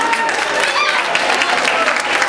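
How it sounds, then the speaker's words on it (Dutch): Dense applause from a festival crowd after a comic striptease act by a ladies' group, steady and loud throughout, with a few voices mixed into the clapping. "Applaus."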